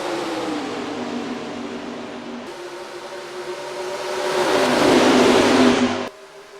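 Engines of NASCAR Racing 2003 stock cars in an All-Star Race at Homestead Miami Speedway drone steadily, then swell into a louder revving surge as the field takes the green flag before the sound cuts off abruptly.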